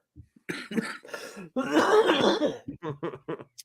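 A person coughs in harsh, raspy bursts, one long hacking fit followed by several short coughs, close and loud.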